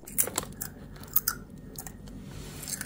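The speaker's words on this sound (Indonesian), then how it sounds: "Kita nyemil bon cabainya habis buka puasa ya" Crunchy BonCabe chili snack being chewed, irregular close crunches and bites repeating over a low background murmur.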